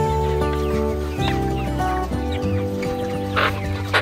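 Cochin chickens cluck close by in a steady low chatter, with a few sharper, higher calls breaking through.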